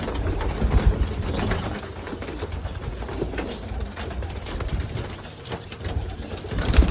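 Pigeons cooing in a loft kept by a pigeon breeder, a steady bed of low murmuring coos with soft fluttering and rustle running continuously throughout, no speech.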